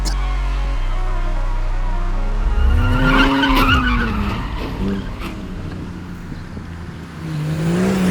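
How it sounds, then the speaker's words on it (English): BMW E36 drifting on a mountain road, engine revving with tires squealing in a skid, pitch rising and falling, then a rough scraping burst as it crashes before the engine picks up again. "And then the crash happened."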